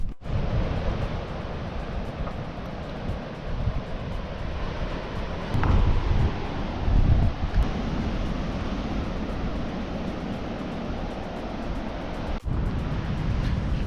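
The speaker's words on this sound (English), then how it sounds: "I can hear the waves crashing." Waves crash on a beach in Innes National Park on the Yorke Peninsula, a steady, broad surf roar mixed with strong wind buffeting the microphone, with no talk.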